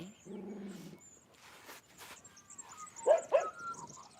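Dogs give a few short, sharp barks and yips while chasing a magpie outdoors, with two louder barks near the end amid quiet background sounds.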